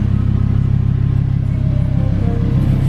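An Audi R8 V10 engine rumbles steadily while driving, a deep, continuous low drone that stays close and fairly loud with no voices over it.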